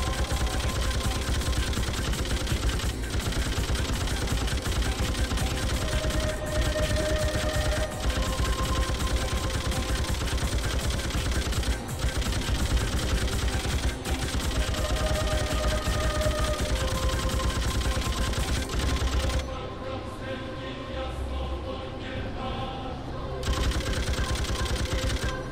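Gunfire from the video game Freedom Fighters rattles almost nonstop in dense automatic bursts with sharp individual cracks, loud and close, briefly thinning to a muffled lull near the end before resuming.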